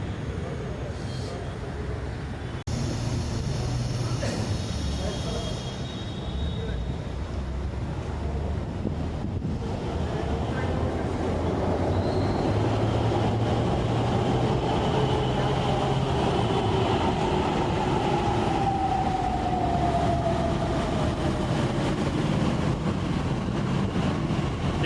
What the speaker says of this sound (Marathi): हे आले पुण्याची मेट्रो.